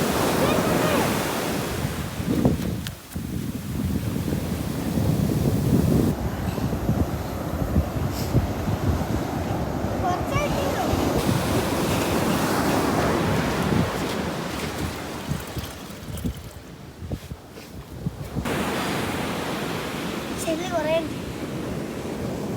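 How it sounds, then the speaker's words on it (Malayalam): Sea waves breaking on a shore where seawater is collected for salt making, a steady loud surf wash with wind buffeting the microphone, and brief voices now and then. "ഒരു മിനിറ്റിൽ എത്ര തിരമാല അടിക്കും"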